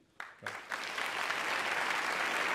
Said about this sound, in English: invite one more round of applause for Robert Rosencrantz